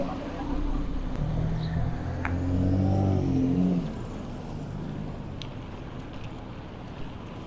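On a Toronto city street between Dupont and Yorkville, a car swells past nearby, its engine rising then fading, leaving a steady low rumble of distant traffic.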